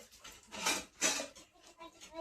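Dishes and utensils clatter and clink as they are washed in a family home, with two louder bursts of handling among softer scraping, and voices talking nearby.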